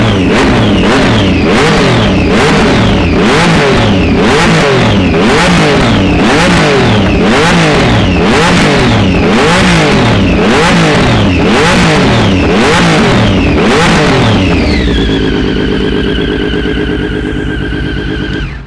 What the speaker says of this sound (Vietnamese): Cái tiếng đặc trưng của cái dòng Triumph là tiếng e, nó giống như CB400.